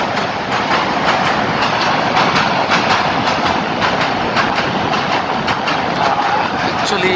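A train rumbles past close by, loud and steady, with rhythmic clickety-clack of wheels over the rails throughout.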